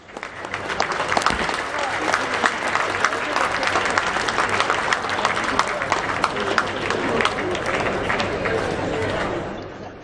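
Sustained applause from a large audience at a public event attended by India's Prime Minister Narendra Modi, steady dense clapping for about ten seconds before tapering at the end, with crowd noise mixed in.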